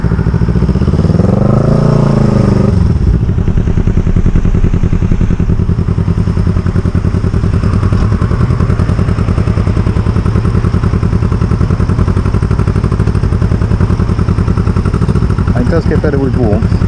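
An EN450 bobber motorcycle engine runs steadily close by, a loud, continuous, slightly uneven mid-pitched chug that holds for the whole stretch, with a voice talking over it.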